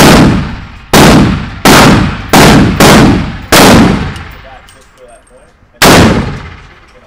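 A 300 Blackout AR pistol fires six loud, sharp shots at a target, the first five in a fast, uneven string and the last after a pause of about two seconds, each blast followed by a long ringing decay.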